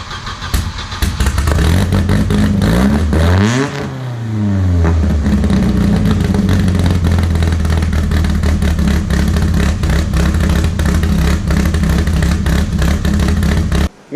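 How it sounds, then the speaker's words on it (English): A Volvo 740 drift car's B230F four-cylinder engine cranks briefly, then catches with a sweeping rev, and settles into a loud, rough, steady idle close by, with no one talking. "I'll start it up for you guys right here, and we'll listen to it idle after I check the oil level."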